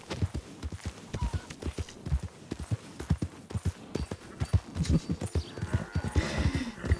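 Horse hooves clip-clopping in the video game Red Dead Redemption 2, a steady close rhythm of hoofbeats at a trot, with faint ambient background and a brief whinny-like sound near the end.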